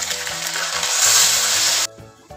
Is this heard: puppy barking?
no